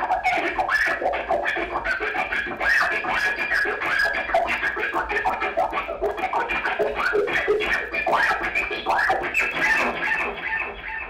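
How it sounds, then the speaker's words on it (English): Scratchy electric guitar noise made by a hand rubbing the strings, chopped on and off by a toggle switch into rapid stuttering bursts, loud and continuous with no talking. "I'm just making this white noise with my hand, and then turning that noise on and off with a toggle switch."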